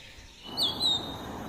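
A wagtail (khonjona) gives a single short, high chirping call outdoors, brief and moderately near against a quiet background.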